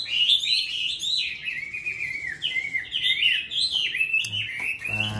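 A Mi bird (laughingthrush) sings a loud, close, continuous run of clear warbling whistles that swoop and trill for several seconds, alone and without speech.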